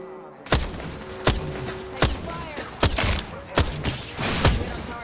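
Repeated gunshots from a first-person shooter game with a zipline, shields and care packages, about seven sharp loud reports at irregular intervals of roughly a second, with game sounds ringing between them.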